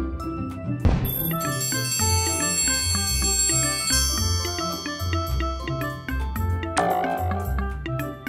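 A toy hammer strikes the bell on a children's educational toy, giving bright ringing dings that sustain and overlap with a light musical toy melody, a few distinct hits across several seconds.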